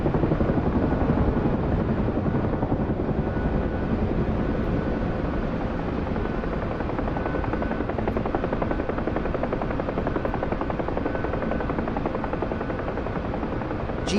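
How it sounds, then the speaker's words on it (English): A Chinook helicopter lifts off with a loud, continuous, rapid rotor chop and a dense engine roar that holds steady throughout, with no voices over it. "Got a Chinook taking off."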